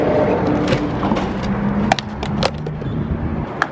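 A car drives past on a street, a steady mid-level road rumble with a few sharp knocks and clicks on top and no talking.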